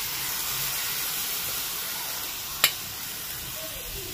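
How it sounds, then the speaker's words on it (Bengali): Rice frying in a mix of ghee and butter for Basanti polau, a steady soft hiss with one brief sharp crackle partway through. "এই চালটাকে ভালো করে এবার ভেজে নেব।"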